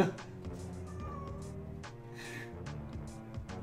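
A pet cat meows indoors, frustrated at a closed front window, giving a few short, fairly faint cries over steady background music.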